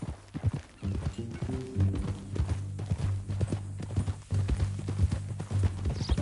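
Horse hooves clip-clop in a steady walking rhythm, close and clear, over a low droning background, in the video game Red Dead Redemption 2.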